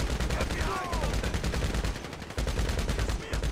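A carbine fires continuously in the game GTA V, with a dense, loud, rapid stream of shots and only brief pauses, close and filling the whole moment.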